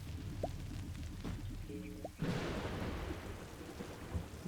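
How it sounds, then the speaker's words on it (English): Thunderstorm in the voxel space game Cubic Odyssey, with steady rain and a sudden loud rumbling crack of thunder midway that rolls on beneath the downpour. "That thunderstorm is getting intense up there."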